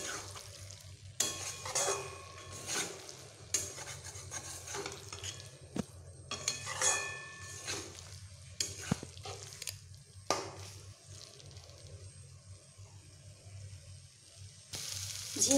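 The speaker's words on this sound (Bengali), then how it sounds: "এই মশলার সঙ্গে ঝিঙেগুলোকে আরও একটু ভালোভাবে এইভাবে ভেজে নেব।" Ridge gourd pieces sauté with spices in a pan, a low continuous frying hiss under repeated scraping and stirring strokes of a spatula, close and fairly quiet throughout.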